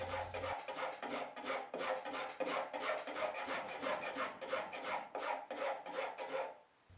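Hand rasp filing a knife's hardened steel tang, a quiet close rhythmic scraping with about a dozen steady back-and-forth strokes, each a short gritty rasp, stopping at the end.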